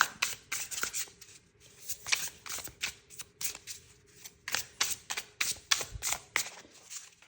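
A tarot deck is shuffled by hand in rhythmic bursts of papery riffling, repeated steadily and quietly with short pauses between them and no voices.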